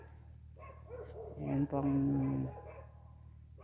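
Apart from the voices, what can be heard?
dog barking outdoors in snow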